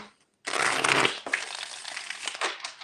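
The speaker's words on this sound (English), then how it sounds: "let's shuffle really good before we go to Virgo" A burst of rapid riffling and flicking as tarot cards are shuffled close by, a loud flurry that tapers into softer shuffling.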